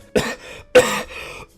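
A person coughs in three harsh bursts, loud and close, with short pauses between them and a third cough just starting at the end; no talking.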